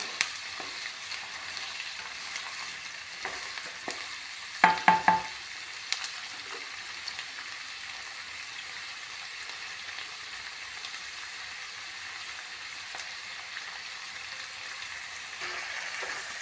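Sliced onions fry and sizzle steadily in a hot pan with oil, a continuous crackling hiss broken by a few brief stirring knocks near the middle; close and moderately loud, with no talking.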